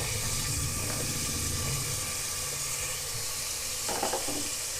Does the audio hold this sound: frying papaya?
yes